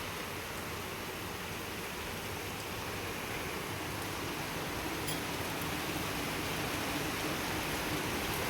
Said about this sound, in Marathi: पाऊस बघा आमच्या इथं भरपूर असा पाऊस आहे.